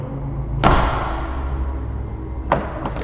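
Door of a 1971 Mercedes L206D van, thin sheet-metal panel, shutting with a sharp thud, followed by a second, lighter clunk about two seconds later over a steady low engine idle.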